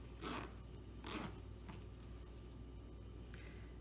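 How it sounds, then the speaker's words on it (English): A zipper on a rolling zip-around bag pulled open in two short rasping strokes close by, followed by softer rustling of fabric in a quiet room. "And then undo the zipper all the way."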